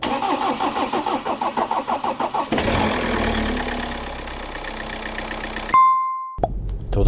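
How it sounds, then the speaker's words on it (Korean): A BMW 118d diesel engine cranks through a rhythmic starter whir, catches, and settles into a steady idle, followed by a loud warning chime and a sharp tone as the car comes to life up close. "시동을 한번 걸어보자고."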